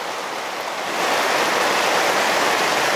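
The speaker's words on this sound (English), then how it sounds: "This is how fast the water is moving, rising." Fast-moving floodwater rises near a yurt during relentless rain, making a loud, dense, continuous rushing wash that swells after the first second and then holds steady, with no voices.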